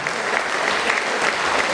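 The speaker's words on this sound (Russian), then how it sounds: "давайте аплодируем" A TV studio audience applauds steadily and fairly loudly for the whole stretch, a dense wash of many hands with no voices on top.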